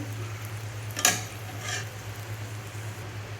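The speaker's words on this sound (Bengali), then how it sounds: "এখন চিংড়ি মাছগুলো ঢেলে দিলাম চিংড়ি মাছগুলো হালকা লাড়া দেব" Prawns stirred in a frying pan with a spatula scrape near the middle and a second softer scrape, over a faint steady sizzle and low hum, no talk.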